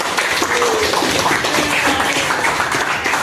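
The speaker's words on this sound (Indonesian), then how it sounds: "Tepuk tangan buat teman kita." A tenth-grade classroom applauds a classmate with a dense, steady wash of many hands clapping together. It runs evenly loud for the whole stretch with no voices standing out.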